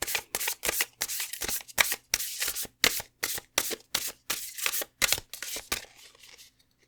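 An oracle card deck being shuffled by hand, a close, crisp run of about a dozen rapid riffling bursts in an even rhythm, trailing off at the end, with no talk.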